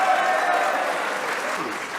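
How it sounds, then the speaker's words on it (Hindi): Applause from a live studio audience on a Pakistani cricket show, honoring fast bowler Shaheen after a match against India; steady, dense clapping that holds for a couple of seconds without letting up. "एक बार इस परफॉर्मेंस पे शाहीन के लिए तालियां होनी चाहिए।"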